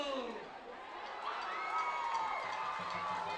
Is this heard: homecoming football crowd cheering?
yes